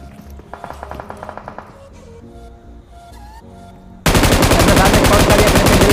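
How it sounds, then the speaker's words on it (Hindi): An M249 machine gun fires a long continuous spray in Battlegrounds Mobile India, a loud, dense burst of rapid shots filling the end, preceded by quieter game sounds and scattered distant shots. "क्या स्प्रे है M249 का ओपी तरीके से"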